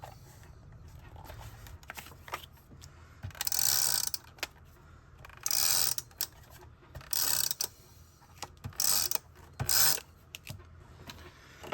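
A dry adhesive tape runner is pulled across cardstock while layering a Christmas card. Several short, ratcheting strokes come in an uneven rhythm, close by, over quiet room noise.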